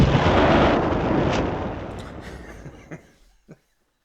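A booming cannon-fire sound effect: one big roaring blast that slowly fades over about three seconds, then a couple of faint short sounds near the end.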